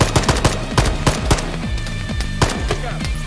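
Rapid gunfire in the video game Arma 3, a dense stream of sharp shots and automatic bursts over a steady low rumble, loud and continuous throughout.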